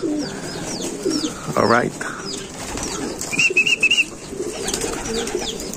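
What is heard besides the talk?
racing pigeons cooing and flapping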